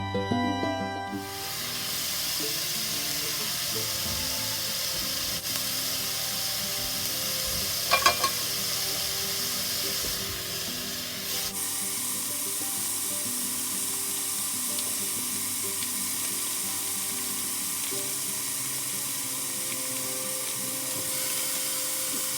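Steady sizzling of taco meat frying in a pan, a constant hiss with a brief clink of stirring midway, no talking.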